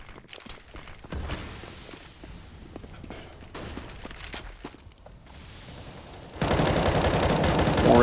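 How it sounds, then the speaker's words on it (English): Rapid gunfire bursts through wooden boards on Overpass in Counter-Strike, at a professional match, sharp clustered shots over a busy background that swells into a loud, dense roar near the end. "Forrest firing through the boards toward the short pipe"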